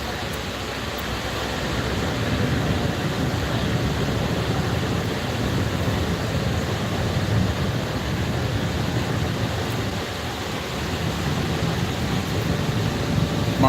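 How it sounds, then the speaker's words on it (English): Steady low rumble and broadband wash of a ferry crossing the Mississippi from the French Quarter to Algiers, New Orleans, with engine drone and water noise holding constant throughout, no voices. "it's just a quick ferry ride across the river"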